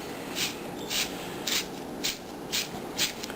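Zucchini turned through a spiralizer into noodles, a soft, close, crunchy rubbing that comes back in regular strokes roughly every half second over a quiet kitchen hum.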